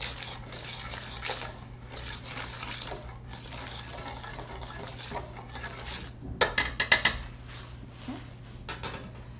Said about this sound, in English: Just whisking the flour and the salt together just to make sure it's evenly incorporated.